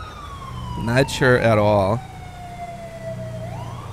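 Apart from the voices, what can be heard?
police car siren in video game GTA 5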